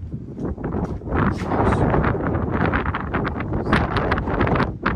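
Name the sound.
wind blowing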